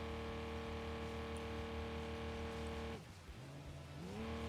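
In an off-road mechanic simulator game, a car engine drones at steady high revs while the rear wheels spin, then drops briefly and climbs back. The sound is loud and continuous, with no talking.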